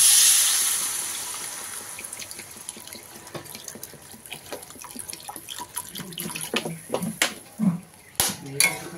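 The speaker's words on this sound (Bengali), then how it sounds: "এবারে এর মধ্যে আমি পরিমাণ মতো জল দিয়ে দিই।" Water poured into a pan of potato and spice curry, a splashing, trickling pour with clinks of utensils against the pan, moderately close, growing into louder bursts toward the end.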